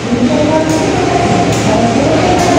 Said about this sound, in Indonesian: Kereta api Erlangga akan segera diberangkatkan terlebih dahulu.